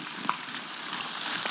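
Eggplant sizzles in a frying pan as a constant close crackle with one brief clink near the start, and nobody speaks.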